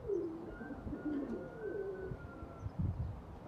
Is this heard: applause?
no